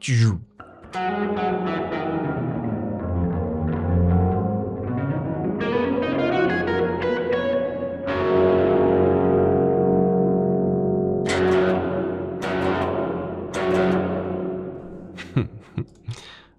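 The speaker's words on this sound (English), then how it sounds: "So we have a short but downwards tilted reverb." Sustained synth tones drenched in effects ring out together, with notes gliding downward and short reverberant tails, ending in a few sharp plucked hits.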